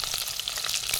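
Curry leaves and green chillies crackle in hot frying oil, a dense steady sizzle with close popping spatters, no voices.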